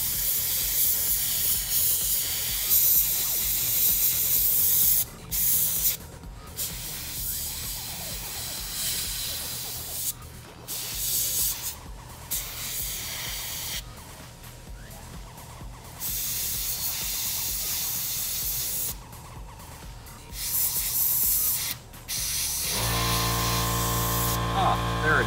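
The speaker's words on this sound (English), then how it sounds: "My super mega obnoxious compressor." A loud air compressor runs with a continuous hiss during spray painting of a model, cutting out in short gaps and ending with a low steady hum.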